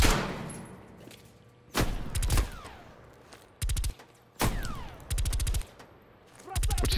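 Video game gunfire in Call of Duty Black Ops Cold War comes in loud, separate bursts of rapid automatic shots, each a second or so long, broken by quieter gaps with trailing echoes.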